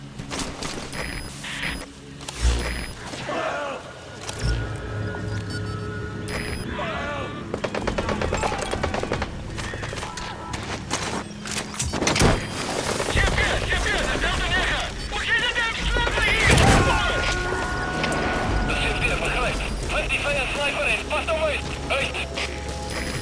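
Machine-gun and rifle fire in Metal Gear Solid V: The Phantom Pain, with bursts and single shots scattered through a busy soundscape of game effects and vehicle noise, while voices talk over it.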